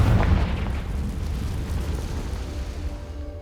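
The Confringo explosive spell goes off in Hogwarts Legacy, a single booming blast at the start that rolls off into a fading rumble.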